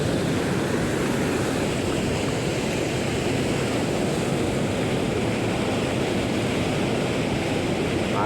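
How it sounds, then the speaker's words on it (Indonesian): Fast river current churning and rushing steadily, a dense continuous roar of turbulent water close by at a fishing spot, with no voices over it. "Airnya ngomplak-ngomplak."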